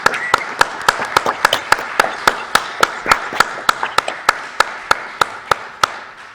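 Audience at an economics panel on popular economy applauding the participants, a steady train of distinct claps from a few hands, fairly close, with faint background noise.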